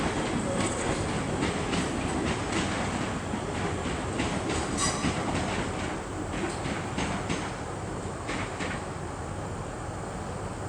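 ScotRail train passing through Edinburgh Waverley station, a continuous loud rumble with rhythmic wheel clatter and faint squeals, heard up close.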